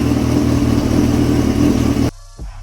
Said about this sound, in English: put the bike in first gear, run it on the bike stand first